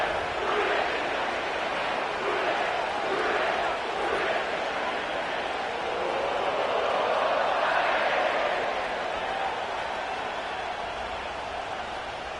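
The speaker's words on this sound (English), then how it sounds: "sellout crowd has arrived at Paycor Stadium in Cincinnati" A sellout crowd fills Paycor Stadium in Cincinnati before a football kickoff, a steady, broad roar of distant crowd noise with swelling cheers holding for twelve seconds.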